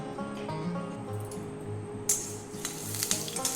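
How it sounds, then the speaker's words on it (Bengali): Mustard oil heating in a pan for frying fish, a low steady sizzle under a humming kitchen background, joined by sharper crackling and a brief clatter toward the end. "এই মাছটা আমি সর্ষের তেলে ভাজবো।"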